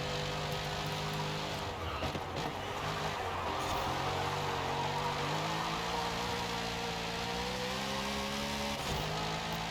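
Corvette Z06 engine in the racing game Forza Horizon 5, a steady engine drone that shifts pitch through gear changes and revs, fairly quiet and continuous, with no talk.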